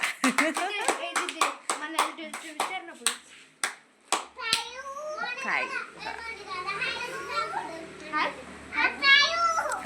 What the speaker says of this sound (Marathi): टाळ्या वाजवा रे बाबा